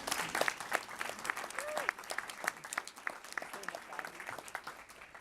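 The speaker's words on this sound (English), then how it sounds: "Let's have a round of applause for our sponsors." Audience at a STEM award ceremony applauding the sponsors, a steady patter of many hands clapping at moderate distance, with a few voices mixed in.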